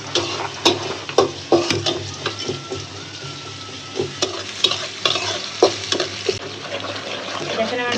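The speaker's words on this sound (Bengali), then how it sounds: "দেখেন আমার পেটটা সুন্দর করে ভাজা ভাজা হয়ে গেছে," Vegetables fry in a pan for a chicken bhuna and rui fish dish, sizzling steadily while a spoon scrapes and stirs in irregular clacks. The sound is close and fairly loud, with no talk.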